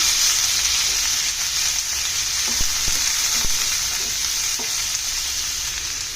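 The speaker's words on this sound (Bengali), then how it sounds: "এখন এগুলি দিয়ে দিচ্ছি, একটু নেড়ে দিচ্ছি।" Chopped chicken pieces frying and being stirred in a hot pan for pizza-bun filling, a loud, steady sizzle throughout, broken by a few light scrapes and clicks of the spatula.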